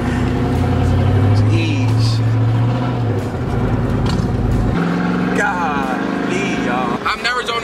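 A squatted Chevrolet Tahoe cruises on the highway, its engine droning steadily with a shift in pitch partway through, heard from inside under constant road noise while people talk over it.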